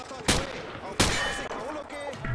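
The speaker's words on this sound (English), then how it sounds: "He sprayed bullets all over the damn place." Gunfire from a rifle fired from the hip in the Call of Duty: Modern Warfare 2 video game, two loud sharp bursts about 0.7 s apart, each followed by sustained ringing and rattling echoes.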